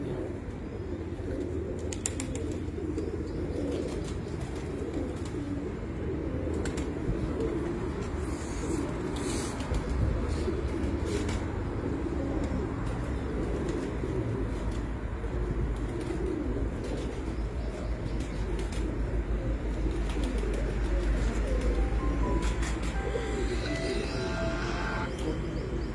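Breeder pigeons in a loft coo softly and repeatedly over a constant murmur of background noise, with occasional faint chirps and wing sounds scattered throughout.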